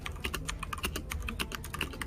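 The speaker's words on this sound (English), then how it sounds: "such loud typing" Loud, fast typing on a computer keyboard during an online tabletop role-playing game session, a dense run of close, sharp key clicks with no talking.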